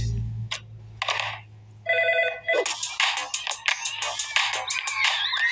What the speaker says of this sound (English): Maddie, the phone's off the hook. I just hit a break from answering, but you haven't even answered it yet